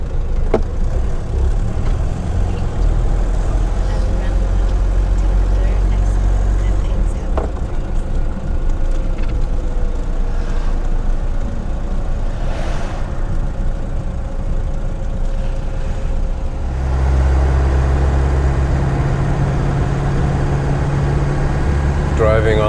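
Mercedes W115 car driving through a busy French town with windows open, a continuous low engine rumble and road noise that drops, then swells again near the end, with faint street sounds around it.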